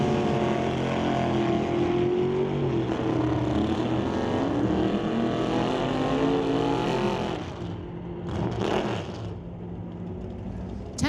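Straight line drag race cars roar down the strip, a loud sustained engine howl that holds for several seconds before fading, with faint commentary underneath.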